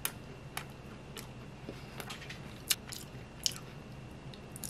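Several crisp, crunchy bites into apple pie spaced out over a few seconds, close and fairly quiet, with soft chewing between them and no talking.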